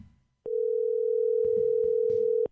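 A telephone dial tone heard while placing a call: after a brief moment of low background noise, a single steady, loud tone holds for about two seconds before cutting off, with faint clicks and thuds along the way.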